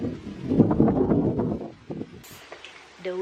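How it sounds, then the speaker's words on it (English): Wind blowing outdoors with an open scenic view behind, a steady rushing buffet on the microphone that is loud at first, then eases, with brief rustling and a short voice near the end. "The wind is perfect."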